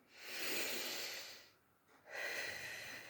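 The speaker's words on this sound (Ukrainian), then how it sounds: "Вдих, видих." Slow, close breathing during a full-relaxation exercise: a long airy inhale, a brief pause, then another long breath, soft and unhurried with no talking.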